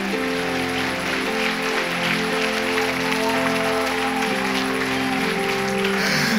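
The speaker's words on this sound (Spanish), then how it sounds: "de un aplauso al Señor" A church congregation claps in praise for the Lord during an apostle's sermon, a steady wash of applause lasting the whole stretch with sustained music tones playing loudly underneath.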